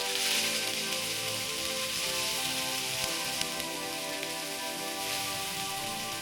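Finely chopped onions frying in a pan for a sprouts pulao, giving a steady, dense sizzle with crackling spatter that holds evenly throughout, close and unbroken by speech.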